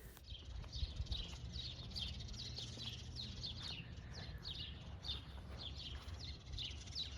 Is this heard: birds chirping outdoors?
yes